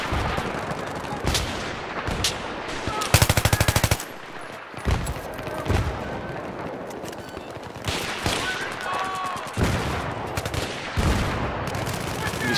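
Battlefield 3 multiplayer combat, with dense bursts of machine-gun fire, single gunshots and heavier explosive blasts rattling through a chaotic soundscape, including a rapid loud burst near the middle, with a voice speaking intermittently underneath.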